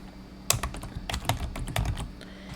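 Typing on a computer keyboard, with quick bursts of close, crisp key clicks in an uneven rhythm.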